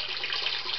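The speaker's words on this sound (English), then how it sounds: "Water flow starting to increase." Water starting to flow in a home aquaculture tank set up in a garage, a steady rushing, splashing pour heard close and constant for a brief moment.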